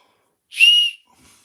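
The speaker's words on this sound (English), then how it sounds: "yep, it's a whistle." A small hand-carved wooden whistle gives one short, bright, steady blast lasting about half a second, close and fairly loud, then falls silent.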